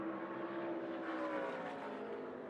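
A NASCAR Craftsman Truck Series race truck engine holds full throttle in practice, a sustained droning whine passing at moderate distance with a slowly shifting pitch.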